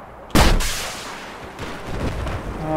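A sharp, loud gunshot in Battlefield 4 cracks out, followed by a lingering echo and low rumble with faint game-like background noise.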